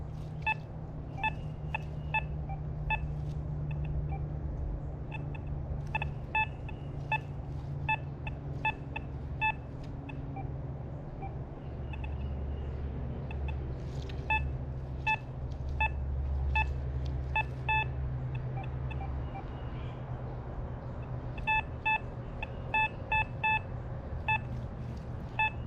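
An XP Deus 2 metal detector with an 11-inch coil, adjusted for reactivity and sensitivity, gives repeated short high beeping tones in quick clusters over a steady low hum, with brief gaps between bursts.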